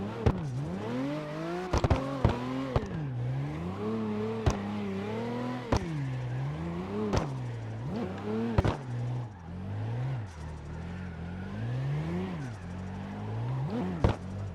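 A race car in the CarX driving game laps a track, its engine revving up and down repeatedly with gear shifts and sharp transients, loud and continuous with no talking.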